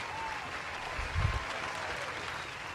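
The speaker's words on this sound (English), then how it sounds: "let's all give them our virtual support and cheer them on" An audience at a social impact prize event claps in steady, dense applause, a continuous patter of many hands at moderate level with a brief swell in the middle.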